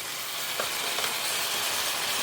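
Small onions and tomatoes frying in a pan give off a steady, dense sizzle that stays close and even throughout, with no one talking.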